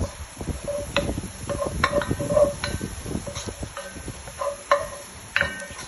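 Banana blossom sautéing in a pan, a soft sizzle under repeated stirring and light clinks of a utensil against the pan, close by, with intermittent taps scattered throughout.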